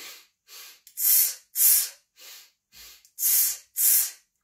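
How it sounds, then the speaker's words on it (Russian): Forceful exhalations during a breathing exercise in a joint-gymnastics class, eight sharp hissing breaths out in a steady rhythm, alternating softer and stronger puffs, close and clear. "выдох, выдох."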